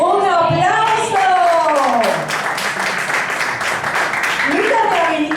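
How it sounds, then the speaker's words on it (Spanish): An audience at a children's church congress in Caguas, Puerto Rico claps and cheers over a continuous wash of applause, with a voice talking over it at the start and end. "¡Un aplauso!"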